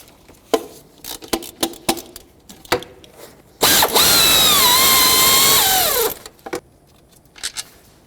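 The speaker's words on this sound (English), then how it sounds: "you'll see that there's a 12mm bolt, so let's remove this" A power tool whirs loudly for about two and a half seconds, backing a 12mm bolt out of the intake manifold on a 2003-2008 Toyota Corolla, with sharp clicks and tool clatter before and after.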